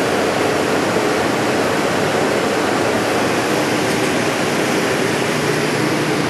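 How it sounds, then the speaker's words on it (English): Steady, broadband rush of water flowing in a continuous fuel ethanol still, loud and continuous throughout with no voices. "you can see water flowing back to the water supply"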